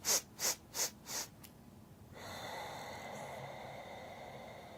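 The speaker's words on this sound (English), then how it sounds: "Just doing the little sniffs of breath." Four quick, evenly spaced nasal sniffs of breath in a yoga breathing technique, close and soft, followed by a brief pause and then a quiet steady hiss of background noise.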